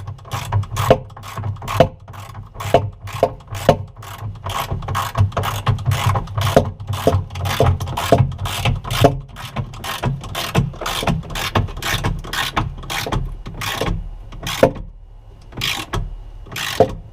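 A wrench tightening bolts by hand while installing a cabinet into concrete, a rapid series of sharp ratcheting clicks in quick bursts over a low hum, close up and moderately loud, with no talk.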